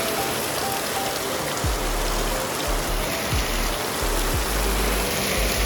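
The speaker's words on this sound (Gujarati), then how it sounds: "ફૂલ વરસાદ ચાલુ થઈ ગયો અત્યારે તો" Heavy rain pours steadily, a dense loud hiss of water on surfaces with low rumbling thumps mixed in, continuous and close, with no one speaking.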